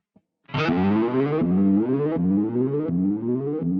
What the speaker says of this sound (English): you can hear that low pass filter on the decay of this